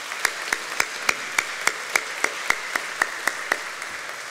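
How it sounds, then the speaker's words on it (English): Steady, evenly spaced claps, about fifteen over four seconds, from a single person or a very small group at a business chamber annual meeting and expo, moderately close in a quiet room with no voices. "So let's have a round of applause for Brockton Area Transit."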